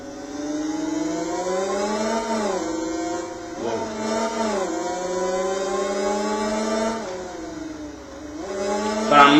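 Aprilia RS250 two-stroke motorcycle engine in the racing game Riding Spirits 2, revving high and steady with repeated pitch drops and climbs as gears shift, loud and continuous with no talk.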